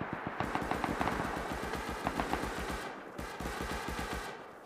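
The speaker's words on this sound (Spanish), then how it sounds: "Le dispara más gente" Rapid machine-gun bursts hammer a turret in Rust, the online survival game, loud and close, with a brief pause near three seconds before the firing resumes in dense, rattling volleys.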